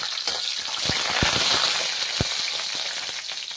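Mustard seeds and urad dal fry in hot oil, making a loud, steady close sizzle with scattered sharp pops and crackles as the seeds burst, and no speech.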